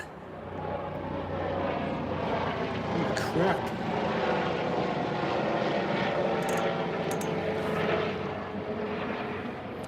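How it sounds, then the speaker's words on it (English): A helicopter drones overhead with a steady throbbing roar, fairly loud and constant, while a voice briefly exclaims. "Helicopter going overhead."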